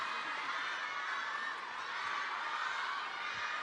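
Stadium crowd of fans at a table tennis doubles final, a steady broad roar of many voices and cheering that holds at an even level throughout.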